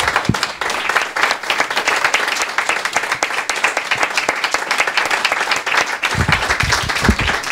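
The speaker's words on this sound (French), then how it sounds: "On va t'applaudir." An audience at an evening talk with filmmaker Raoul Peck breaks into sustained, dense applause, many hands clapping together loudly and continuously for the whole stretch.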